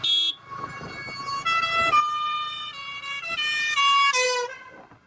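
A truck's musical multi-tone horn blaring on a cement road, loud and close, sounding a long melodic sequence of rising and falling notes with brief breaks, alone without talk.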